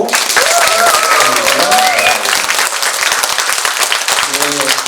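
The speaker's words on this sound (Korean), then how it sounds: "큰 박수로" Loud, sustained applause from the audience at a pansori performance of the Dongcho-je Chunhyangga with a master singer and drummer, filling the whole stretch, with voices and a few whoops rising through the clapping.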